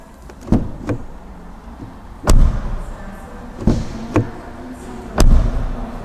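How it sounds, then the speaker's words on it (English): A Volkswagen ID.3 door opens and shuts several times, each close landing as a solid thud, separated by short pauses. "every time I open and close this door"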